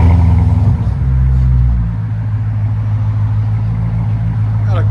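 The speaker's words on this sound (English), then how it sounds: "Got a clean idle to it." Steady, loud idle from a 2008 Chevy Corvette 6.2L V8 fitted with a Black Widow exhaust, a deep rumbling drone with a slight dip in level partway through, heard close and alone.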